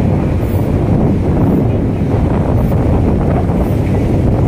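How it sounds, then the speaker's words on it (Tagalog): Strong typhoon wind buffets the microphone in a steady, loud roar on a footbridge by the Manila Bay seawall, with a faint wash of sea beneath it and no voices. "Ramdam na ramdam po natin dito yung lakas ng hangin sa may taas ng footbridge."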